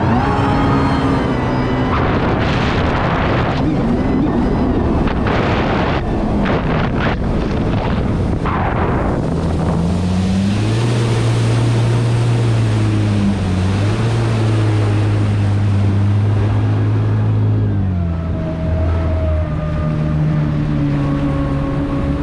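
A Kawasaki Ultra 310LX jet ski running in launch control mode, its engine roaring loud and close with rising and shifting pitch as the craft speeds up, under rushing wind and water noise and with no talking.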